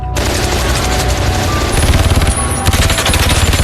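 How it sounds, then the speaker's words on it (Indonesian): Rapid automatic gunfire from a violent film scene rattles in dense, continuous bursts, loud and close, with heavier booming volleys toward the end. "suara tembakan kembali terdengar"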